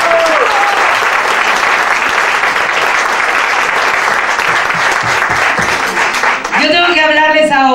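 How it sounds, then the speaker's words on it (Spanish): A theatre audience at Teatro Repertorio Español in New York gives sustained, dense applause that fills the hall at steady loudness, with a brief tonal musical sound rising near the end. "su director, que vamos a darle también un aplauso en estos momentos, Adolfo Vázquez."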